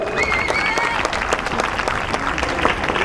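Crowd applause at a Thai boxing gala in Mauguio, a loud continuous roar of clapping from a packed hall, with some voices and cheers blended underneath.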